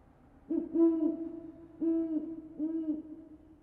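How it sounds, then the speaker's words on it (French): Owl hooting in isolation, three low, hollow, tonal hoots spaced about a second apart, the first longest and strongest, the later two slightly softer. "Hibou."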